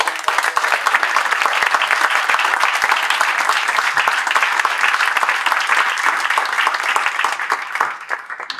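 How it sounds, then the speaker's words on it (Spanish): Audience applause at a panel discussion on waste management and circular economy, dense steady clapping from a sizable crowd lasting throughout and thinning slightly at the end. "Yo les pido un aplauso."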